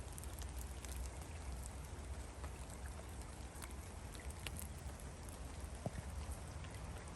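Steady rain hisses continuously, with scattered drops pattering nearby on surfaces, fairly loud and unbroken throughout.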